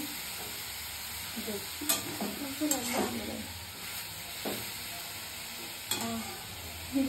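Carrot frying in oil, a steady sizzle with repeated spatula scrapes and clacks against the pan close by, alone without speech.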